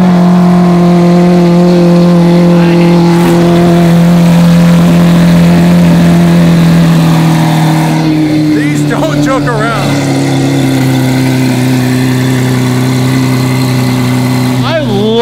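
Lamborghini SV coupe V12 engine revving up close, a loud, steady low roar that climbs and settles in pitch, with sharper bursts of throttle near the end.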